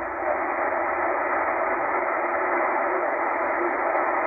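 Faint shortwave station picked up near 13 MHz on a Tecsun H-501X portable receiver with poor propagation, its signal buried in a steady, even wash of band-limited static hiss with no clear voice standing out.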